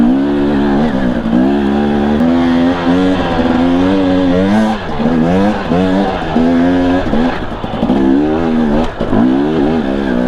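A 250 four-stroke or two-stroke dirt bike engine revs repeatedly while climbing a steep trail in low gear, its loud, close note rising and falling in uneven surges.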